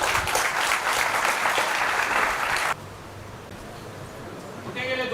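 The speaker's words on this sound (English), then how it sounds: "big round of applause" Live event audience breaks into loud, dense applause that cuts off abruptly partway, leaving quieter room noise and a voice starting to speak.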